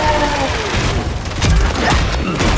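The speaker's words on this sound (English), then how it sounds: "They're shooting at me!" Short, loud volley of gunfire in Paladins, with rapid shots and thuds packed closely together over a couple of seconds, mixed with game noise and a faint voice.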